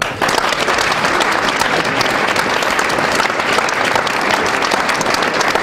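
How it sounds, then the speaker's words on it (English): An audience at a recovery festival welcomes a speaker to the stage with loud, sustained applause, a thick, even wash of clapping throughout. "thanks for the applause"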